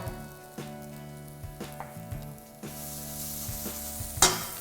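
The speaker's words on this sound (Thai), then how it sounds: "หลังจากที่ปรุงรสเสร็จแล้วผัดจนทั่ว นะฮะผมก็จะเติมในส่วนของ น้ำมันงาไปเล็กน้อย" Hong Kong-style noodles stir-fried in a wok with a little sesame oil, a steady loud sizzle broken by rhythmic scraping and tossing strokes, building to a sharp clatter near the end, with no talking.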